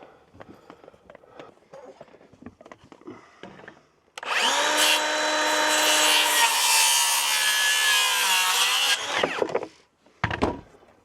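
Saw trimming wood on the exterior of an off-grid cabin: after some quiet handling noises, a loud continuous cutting run lasts about five seconds, then stops, followed by a few knocks.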